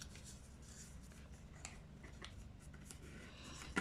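Scissors clip through folded paper layers for a flower globe, giving soft, close snips and rustles in a quiet room.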